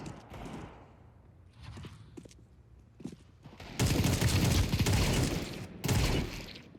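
Rapid automatic gunfire in Counter-Strike 2, first as scattered short bursts and then two long, loud sustained volleys, with footsteps and quieter game sounds between them.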